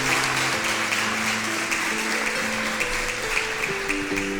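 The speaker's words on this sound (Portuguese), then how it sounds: "Você pode aplaudir Jesus, dando a Ele a honra." A church congregation applauds during a Portuguese-language sermon, a continuous wash of clapping held under sustained organ or keyboard chords, with little talk over it.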